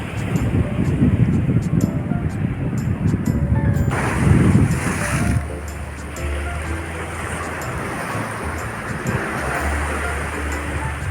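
Sea surf rolling onto the Bay of Bengal coast, a steady broadband wash of breaking waves with a heavier surge midway, continuous and fairly loud with wind buffeting the microphone.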